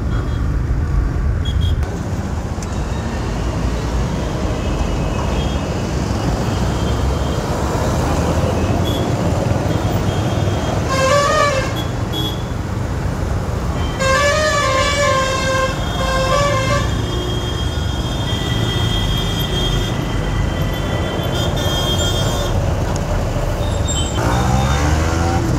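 A motorbike rides roughly through busy road traffic, with a constant close roar of engine and wind. Several short horn toots from passing vehicles sound in the middle stretch.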